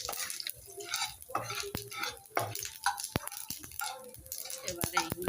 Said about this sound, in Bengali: একটা গোটা লঙ্কা ফোড়ন, কালো জিরে, মৌরি, সাদা জিরে ফোড়নে